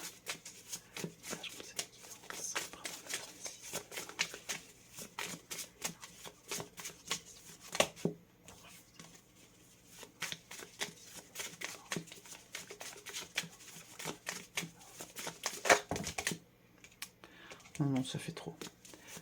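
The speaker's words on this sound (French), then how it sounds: "Je sors une autre carte." Tarot cards are shuffled and drawn by hand, giving soft riffling and light slapping sounds that come and go beneath continuous French speech.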